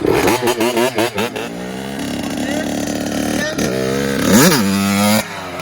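Motorcycle accelerating hard in second gear for a wheelie, a loud close engine revving up and down in bursts before a long rising roar, with someone speaking over parts of it.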